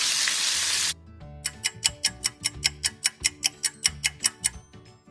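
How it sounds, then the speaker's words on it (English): Okra frying in oil gives a bright hissing sizzle for the first second, then cuts to a rapid, regular run of sharp ticks, a dozen or more evenly spaced and fairly close, with no voices. "I'm going to go ahead and finish frying my okra"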